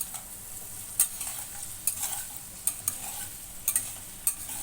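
Aloo gobi, a potato and cauliflower sabzi, sizzling steadily in a pan while a utensil stirs and turns it, with a soft continuous frying hiss broken by several sharp scraping clinks of the spoon against the pan.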